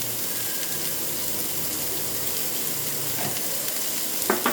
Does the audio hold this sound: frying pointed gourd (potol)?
yes